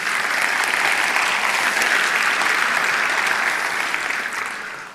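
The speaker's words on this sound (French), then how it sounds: "On peut aussi les applaudir." An audience at the Cratère theatre's season presentation applauds, a loud, even wash of clapping from many hands that holds steady and then begins to taper off.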